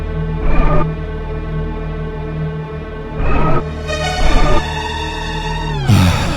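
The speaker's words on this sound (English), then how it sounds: "Just listen to this basement theme." Basement theme music from a PlayStation video game plays in short synthesized phrases with sustained tones, broken by loud bursts of layered notes and ending on a sharp rising swell.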